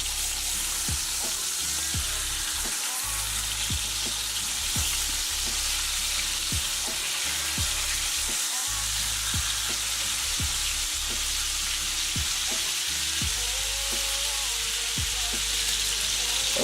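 Salisbury steak patties fry in a pan, giving a loud, continuous close sizzle with sharp crackles and pops scattered throughout and occasional clinks of a utensil against the pan.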